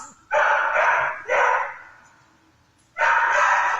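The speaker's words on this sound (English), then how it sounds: "Shut up, you stupid dog." A dog barks close and loud in long, harsh bursts: two sustained barks, a pause of over a second, then a third, with no talking.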